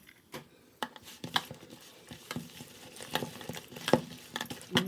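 Egg stirred into a prawn masala marinade in a bowl, producing soft wet squelches and irregular clicks of a spoon against the bowl, close but quiet, with no talking.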